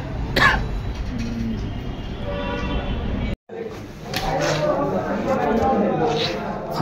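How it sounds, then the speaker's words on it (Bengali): A person coughs sharply near the start and clears their throat, with raspy throat noises and a brief pause, close and fairly loud in a dusty setting. "কথা করার আগে আমার কাশি"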